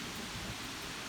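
Rain falling steadily during a storm, a soft broadband hiss of drops that holds at an even, fairly quiet level throughout, with no voices.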